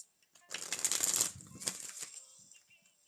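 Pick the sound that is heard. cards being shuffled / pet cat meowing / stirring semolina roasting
cards being shuffled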